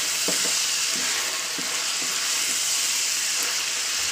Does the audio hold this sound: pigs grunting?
no